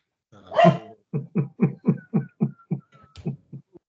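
An excited dog barks in a rapid run of about ten sharp, evenly spaced barks after an opening yelp-like howl, close and loud, with no talk over it.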